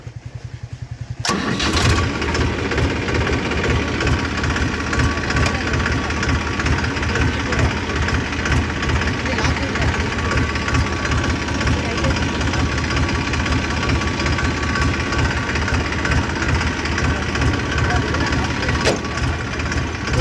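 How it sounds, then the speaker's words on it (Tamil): A Massey Ferguson 5245 tractor engine cranks and fires after a brief quiet moment, then settles into a loud, steady chugging idle close by for the rest of the stretch. "ஸ்டார்ட் பண்ணி வண்டி எடுத்துகிட்டு போவாங்க ஃபீல்டுக்கு."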